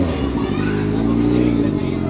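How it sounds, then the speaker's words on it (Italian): A motorcycle passes close by at an outdoor talk in Camigliatello, Calabria, its engine a loud, steady droning rumble that swells slightly as it goes past. "facciamo passare la moto"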